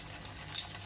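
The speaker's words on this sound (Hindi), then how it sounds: "तेल अच्छे से गर्म हो गया, अभी इसमें आलू टिक्की को ऐड कर दूँगी" Aloo tikki frying in hot oil in a pan, a steady soft sizzle that runs through the whole moment with a faint hiss, close and fairly quiet, without voices.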